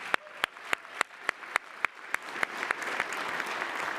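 Sparse, slow claps at a recognition event for HBCU engineering deans, about a dozen distinct hand claps in a steady rhythm over a faint room murmur, fairly quiet and thinning out toward the end.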